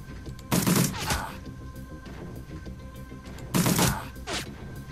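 Two separate bursts of gunshots in the video game Shadowrun: Dragonfall, each a quick cluster of sharp cracks, set about three seconds apart over a quiet background hum.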